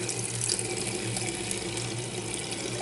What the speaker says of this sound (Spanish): llaves abriendo de manera correcta, cerrando de manera correcta